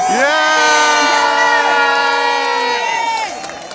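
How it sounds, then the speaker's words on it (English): A loud protest crowd cheering and shouting together, many voices whooping at once, then fading slightly at the end. "You need to give a big round of applause to yourself for coming out today."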